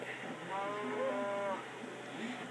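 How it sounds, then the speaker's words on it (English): Minecraft cows spawned from a mob spawner give a drawn-out moo lasting about a second, mid-loudness and close, over a steady background hum. "So then I'm going to spawn some cows."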